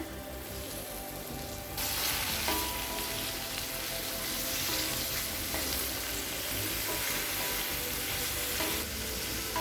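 Blanched cauliflower stir-fried with onion and tomato in a pan for a pepper gravy, giving a steady, close sizzle and crackle that runs throughout with no voices.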